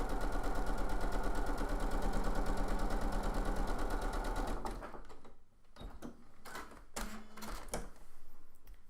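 Domestic sewing machine stitching quilt fabric for half square triangles, running as a fast, steady mechanical whir and needle patter for several seconds, then stopping into a few scattered knocks and handling clicks.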